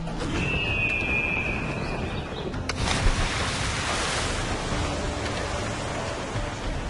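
Ocean waves in Assassin's Creed IV Black Flag roll in a steady, broad surf wash with a soft windy hiss. A brief whistling tone rises early, and a faint thump follows.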